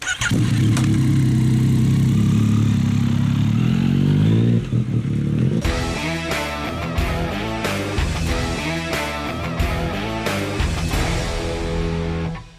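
Yamaha XSR900 motorcycle engine out on the road: a steady loud drone that breaks into close, revving pulses with shifting pitch as the rider works through the gears. No talking.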